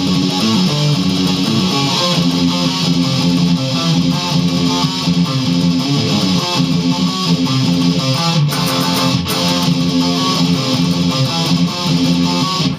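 A loud electric guitar plays a driving rhythm riff, repeating chunky chords steadily with full band backing.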